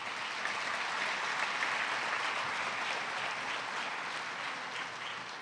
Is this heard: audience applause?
yes